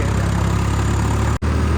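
A tractor engine runs in second gear in a wheat field with a loud, steady, low rumble close by, broken by one very brief dropout.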